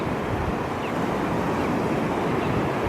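Ocean surf washing onto a beach at night, a steady broadband roar of waves with wind noise, continuous and fairly loud with no talking.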